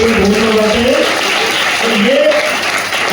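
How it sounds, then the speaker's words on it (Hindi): Audience applause in a large hall during a seminar session: steady, dense clapping from many hands, mixed with a voice speaking loudly over it. "तो एक बार ऐसे लोगों के लिए ताली बजा दो यार"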